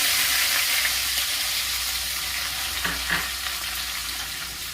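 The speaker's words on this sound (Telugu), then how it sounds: "ఇప్పుడు అదే ఆయిల్లోకి కొంచెం ఆవాలు, జీలకర్ర వేసుకొని వేయించుకోవాలి." Mustard seeds and cumin sizzle and crackle in hot oil, a steady close frying hiss with a couple of brief stirring clatters near the end.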